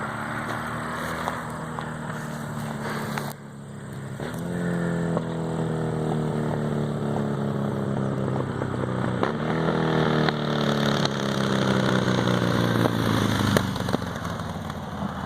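A 2010 Harley-Davidson Sportster 1200 Custom motorcycle rumbling through its exhaust pipes, a deep loping idle with several throttle blips that rise and fall, close and loud, with no talking.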